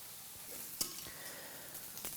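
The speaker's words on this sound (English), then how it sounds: "Put it on, sizzling hot pan," A sirloin steak sears in a sizzling hot pan, giving a steady, quiet hiss with a few sharp pops and crackles scattered through it.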